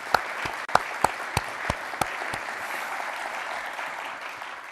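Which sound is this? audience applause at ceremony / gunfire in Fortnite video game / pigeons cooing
audience applause at ceremony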